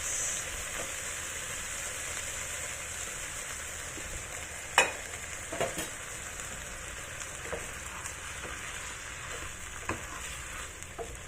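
Okra and sauce sizzle steadily in a pan, with a few sharp scrapes and clinks of stirring near the middle and toward the end.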